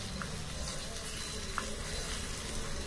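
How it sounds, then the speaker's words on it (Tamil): Onions sautéing in a tiny miniature pot for mutton biryani, a steady close sizzle and fry with light stirring scrapes throughout, no talk. "நல்லா இப்படி பொன்னிறமாக வதங்கிட்டான் பாருங்கள்"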